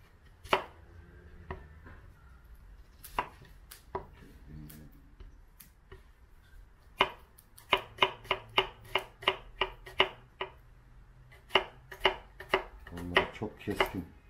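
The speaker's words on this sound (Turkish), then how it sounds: "Şimdi sebze bıçağıyla şu soğanlarımızı doğrayalım" Onions being chopped with a sharp vegetable knife on a cutting board, a run of crisp, close knife strikes that starts sparse and becomes a steady, rapid rhythm of distinct cuts.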